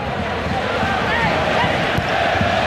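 Supporters of the Cove chant together across a football stadium, a broad, steady crowd roar that holds at an even level throughout.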